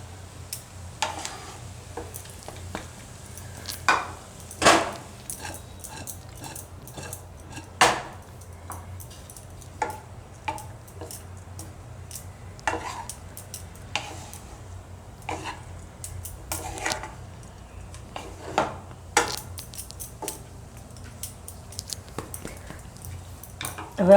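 Beet poha being mixed in a pan, with repeated scraping and clinking of a utensil against the metal in an irregular rhythm, close and moderately loud, with no talking.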